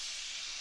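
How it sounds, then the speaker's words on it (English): Shrimp searing in a hot, smoking pan for dirty rice give off a steady, loud sizzling hiss that stays constant throughout, with no voices. "Once that pan's hot and smoking, get your shrimp in it."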